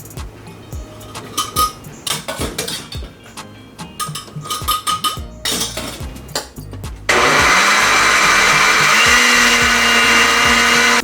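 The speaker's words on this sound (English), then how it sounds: "put it through the blender right away." A kitchen blender whirs steadily as it purees parboiled carrots for mango carrot juice, starting loud and continuous after several seconds of clattering prep noises, with no talking.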